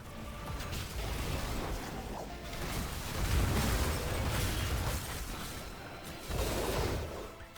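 A fort is destroyed in a Heroes of the Storm-style game with a long, rumbling explosion. It swells and roars for several seconds, then flares again near the end, with no voices.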